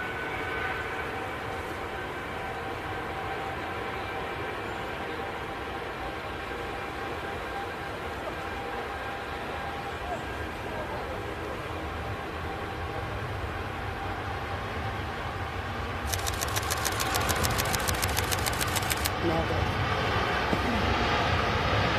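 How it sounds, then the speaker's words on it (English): A Gulf Air Boeing Dreamliner jet departs Manchester Airport, a steady broad engine roar heard from a distance that swells slightly louder toward the end. "Here we go, Gulf Air Dreamliner heading back to Bahrain."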